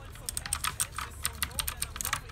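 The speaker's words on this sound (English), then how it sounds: "These are blue Audemars switches, very loud, tactile." Fast typing on a mechanical keyboard with loud, tactile blue switches: a dense run of crisp clacky keystrokes, close and prominent, with a low background hum underneath.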